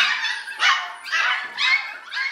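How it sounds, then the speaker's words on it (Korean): Young puppies crowded into a training room, yapping in four quick, high-pitched barks spaced about half a second apart, close and clear. "가득 들어찬 어린 강아지들"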